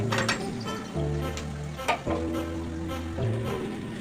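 Egg curry ingredients fry in a pan with a close sizzle, broken by several sharp clinks and scrapes of stirring, while a low hum sits underneath and no one speaks.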